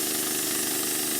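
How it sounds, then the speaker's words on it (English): A sawmill blade cutting 1x6 fence boards gives a steady, loud mechanical whine and engine drone that runs unbroken through the short stretch, with no voices. "So here we are sawing our 1x6 fence boards."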